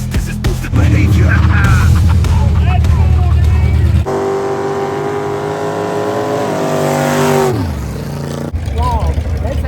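A rat rod car races down a dirt drag strip at an outdoor dirt drags event, its engine roaring loud and close as it revs and accelerates hard, then fading, with voices talking over parts of it.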